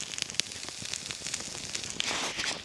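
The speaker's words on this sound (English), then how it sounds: "You can hear the tar crackling." Tar crackles and pops in a campfire at a cold, snowy bushcraft camp, a close, dense stream of sharp snaps over a steady hiss with no voices.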